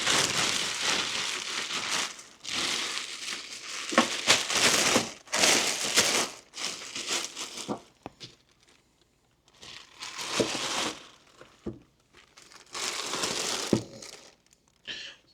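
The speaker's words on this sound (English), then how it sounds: "So let's take it out of the plastic and see how this works" Stiff plastic packaging crinkles and crushes loudly and close as a DECLYNEE 15x15 auto heat press is pulled free, in bursts of rustling separated by short quiet gaps.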